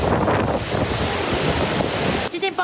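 Strong gusts from Typhoon Haikui sweeping a street in Taitung city, a loud, close, buffeting roar that batters the microphone, then briefly thins out near the end as a higher-pitched voice-like sound cuts through.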